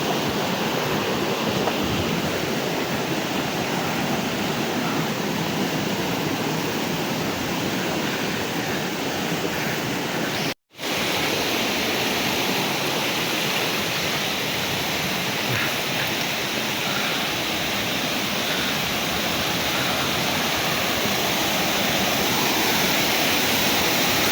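Curug Lawe waterfall in Ungaran rushing loudly and continuously, a dense steady roar of falling water heard close up, with one brief cut to silence partway through.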